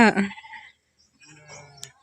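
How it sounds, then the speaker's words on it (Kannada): A couple of sheep bleats, a loud wavering one up close followed by a fainter, lower bleat after a short pause. "ಇವತ್ತು ಕೇಳೇ ನೋಡ್ರಿ ಕುರಿ ಸೌಂಡ್."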